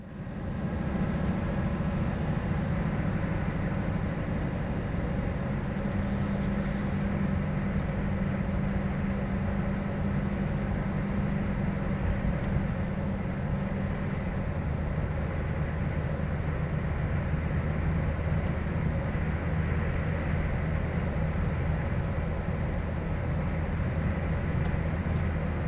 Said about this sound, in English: We are now driving east on Moriches Bypass.